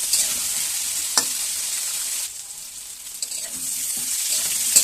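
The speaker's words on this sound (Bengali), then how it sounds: "ফুলকপিগুলো বেশ সুন্দরভাবে ভাজা হয়ে যাচ্ছে, আর এভাবে কিছুক্ষণ ভাজা ভাজা করবো।" Cauliflower and potato fry in a pan, a steady close sizzle broken by a few sharp scraping stirs of a utensil.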